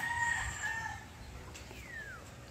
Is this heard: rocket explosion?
no